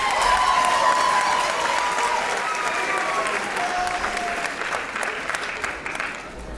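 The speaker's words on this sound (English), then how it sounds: "Let's give another big round of applause for your 2019 Mr." A school audience claps and cheers for the 2019 Mr. LHS pageant candidates, sustained steady applause filling the hall with a few voices mixed in, slowly tapering off.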